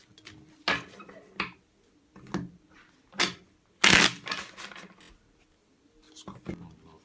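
Tarot cards being shuffled in short bursts, about six quick riffling rustles separated by pauses, close and fairly quiet, with soft speech between them.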